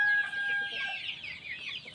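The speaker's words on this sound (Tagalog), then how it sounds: "halo-halo ang manok natin dito" Mixed backyard flock of chickens, including Black Australorps, Rhode Island Reds, Sussex and gamefowl, clucking near a large coop, a steady close chorus of clucks with no talk.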